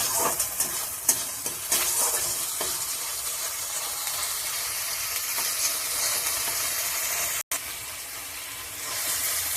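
Masala with whisked sour yogurt being sautéed and stirred in a pan for Badshahi eggplant, a steady close sizzle with scraping stir strokes and one brief break, no talking.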